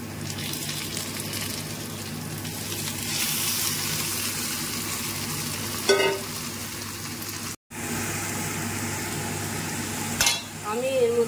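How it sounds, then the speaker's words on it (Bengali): Chicken pieces go into a pan of frying onions, a steady close sizzle with stirring and a couple of brief metallic scrapes and clinks from the pan, no voices over it. "এবার আমি চিকেনগুলো দিয়ে দিচ্ছি।"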